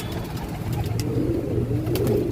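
Pigeons on a pigeon farm give low, steady cooing and soft fluttering throughout, with a constant murmur of the flock and faint distant road noise underneath.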